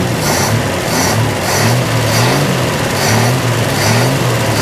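An abandoned 1961 Ford Falcon engine runs steadily at a rough, untuned idle, a loud continuous low rumble that holds evenly with slight pulsing throughout.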